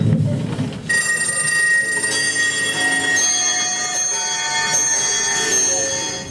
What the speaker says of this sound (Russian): Это мои часы звонят?